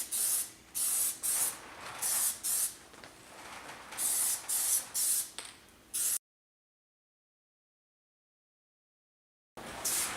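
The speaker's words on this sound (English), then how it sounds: "And then we'll put on another coat." Plasti Dip coating sprayed from an aerosol can onto Tesla Model X wheels, coming as about ten short, loud hissing bursts with brief gaps, then silence before one more burst at the end.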